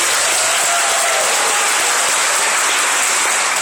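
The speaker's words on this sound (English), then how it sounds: "Round of applause for Brandon." Sustained, loud applause from a crowd of pupils and staff at a Bristol school anti-bullying assembly, steady and thick from start to finish.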